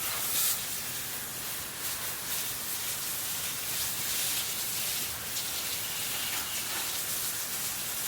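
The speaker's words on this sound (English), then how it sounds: "Let me go ahead and rinse some more of them" Hose water sprays steadily while freshly harvested carrots are rinsed outdoors, a loud, continuous broadband hiss with slight surges and no talking.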